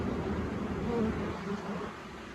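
Honeybees buzz in a dense, steady drone close by, with a faint voice in the background.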